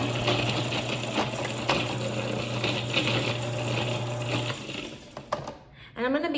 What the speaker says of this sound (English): I'm gonna go ahead and grind that up for a few minutes and just get that whipped down